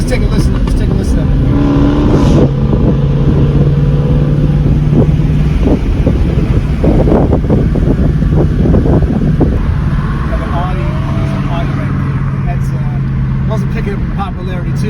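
A loud Dodge Hellcat engine rumbles and revs under steady wind noise while someone talks over it throughout.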